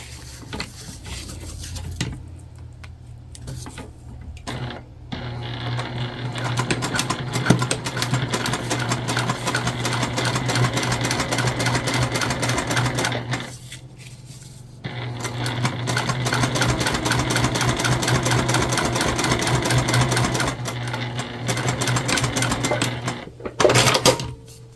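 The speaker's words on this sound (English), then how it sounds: "And then we're going to top stitch here again, same way that we did before." A sewing machine topstitching fabric for a key fob wallet, running in two long, even, rapid stitching passes with a short pause between them, close and loud with no talking.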